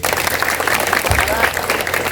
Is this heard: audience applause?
yes